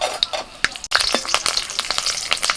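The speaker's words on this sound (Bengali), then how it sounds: "কড়াইতে সর্ষে তেল দিচ্ছি ওর মধ্যে দিচ্ছি তেজপাতা শুকনো লঙ্কা কাঁচা লঙ্কা" Bay leaves and dried chilies crackle and sizzle as they hit hot mustard oil in a wok, a busy spitting fry with sharp pops scattered over a steady hiss, close and loud, no voices.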